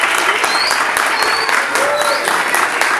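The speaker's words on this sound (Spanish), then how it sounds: "por favor les pido un fuerte aplauso a Alfredo Neira Martínez." Audience at a Spanish-language music ensemble concert applauds steadily throughout, a dense wash of clapping with a few faint whistles and cheers.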